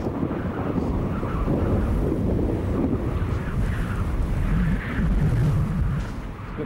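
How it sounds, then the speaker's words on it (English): Gusty wind buffets an outdoor site on a weather-threatened day, a steady low roar with broad rumble pressing on the microphone for the whole stretch, swelling slightly near the end. "Got a few gusts of wind coming over now"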